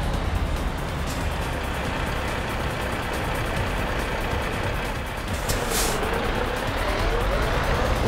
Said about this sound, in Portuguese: Deixa eu ir freando assim, senão eu bato na traseira.